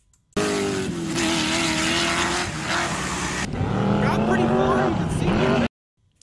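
Dune buggies kicking up a big dusty cloud, engines roaring loudly and steadily with revving shifts in pitch, under talk, ending abruptly.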